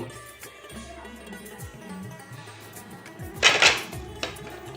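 Freshly fried nolen gur khasta kachori tipped from a strainer onto a plate, giving a short, bright clatter of metal and crockery near the middle, amid faint low kitchen hum.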